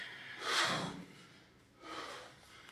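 An athlete breathes heavily between lifts during a 10-minute 24 kg kettlebell long-cycle set, with two loud breaths, a harsh exhale early on and another later, close and alone.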